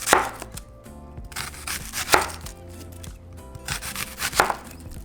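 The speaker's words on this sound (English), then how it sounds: "we're going to grab our onion and we're going to cut it in little rings" A knife chops an onion into rings on a cutting board. Sharp, close strikes land every second or so, with no talk.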